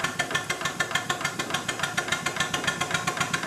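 A model Merlin locomobile engine runs on compressed air and drives a forest saw. It gives a fast, even chuffing beat with a light metallic rattle, close and steady throughout, with no voices.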